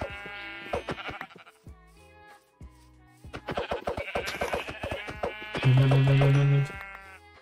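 Sheep in the video game Minecraft bleat repeatedly, wavering calls coming one after another among clicks and scattered game sounds, ending in a sustained louder tone.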